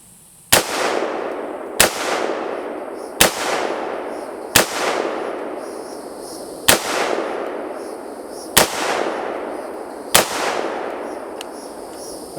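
Shotgun fired into a sheet: seven loud, sharp blasts spaced about one to two seconds apart, each followed by a brief ringing echo, with no talking.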